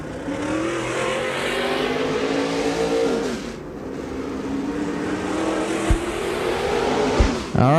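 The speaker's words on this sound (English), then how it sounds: "first group of cars to make their way onto the racetrack" Super late model race cars roll onto a speedway track for qualifying, engines droning and revving loudly and steadily with rising and falling pitch, a couple of sharp bangs near the end.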